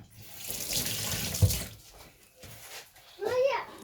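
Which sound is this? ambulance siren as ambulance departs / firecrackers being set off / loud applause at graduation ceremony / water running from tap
water running from tap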